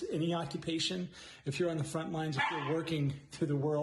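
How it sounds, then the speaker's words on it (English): A dog barks and yips in short bursts, fairly close, under continuous speech that runs through the whole stretch. "that's my dog saying hi"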